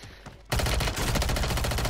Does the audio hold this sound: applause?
no